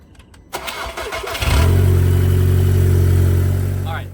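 A 2005–2008 Audi A4 B7 with a manual gearbox cranks and fires after basic maintenance, settling into a loud, steady idle close by, with faint voices before the start.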